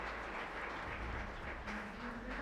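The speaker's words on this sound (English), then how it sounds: "An applause for Bruno" Audience applause at a conference session for Bruno, a dense steady wash of clapping hands filling the room at fairly loud level, continuous throughout with no talk over it.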